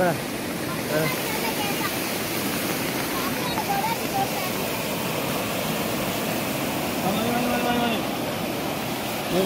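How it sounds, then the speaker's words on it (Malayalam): A swollen river at Kavilumpara in Kozhikode, Kerala, overflowing its banks, sending up a steady, broad roar of rushing water, with faint voices in the background. "ഇപ്പം വെള്ളം കര കവിഞ്ഞ് ഒഴുകി ഒഴുകൽ തുടങ്ങിയിട്ടുണ്ട്"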